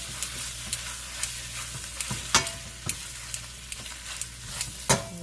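Beef frying in a wok-style pan over medium-high heat hisses steadily while a utensil scrapes and taps the pan in frequent sharp strokes, close by and with no speech.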